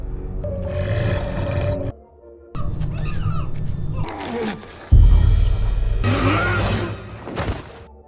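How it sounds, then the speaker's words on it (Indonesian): A pack of wolves in a film scene growls and roars in loud, rough bursts across several seconds, broken by short pauses, with heavy low thuds and dramatic soundtrack beneath. "rombongan langsung disambut kawanan serigala"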